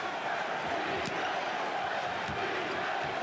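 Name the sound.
capacity crowd chanting defense at NBA Finals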